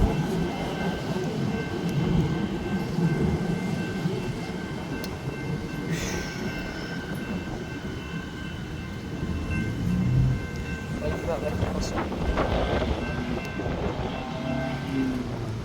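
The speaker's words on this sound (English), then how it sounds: "And that's a Siemens Nexus train." Siemens Nexus suburban train rumbling through the South Road level crossing at Brighton Beach, Victoria, a steady close roar with wheel and rail noise throughout, bell-like tones ringing over it.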